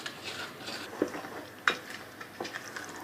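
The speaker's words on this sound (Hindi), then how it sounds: "बस ये मिक्सिंग अच्छी करनी है आपने, सारी चीज़ें मिक्स हो जाएं आपस में।" Crushed Oreo cookies and nuts being stirred and mixed in a bowl: a faint, soft scraping with a few light clinks of the utensil against the bowl.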